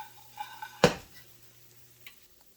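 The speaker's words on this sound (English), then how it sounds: "And I'm going to stir this around." A spatula stirs flour and cornmeal into bacon drippings in a pan for sawmill gravy: one sharp utensil clatter against the pan, then a quiet low hiss and a faint later tap.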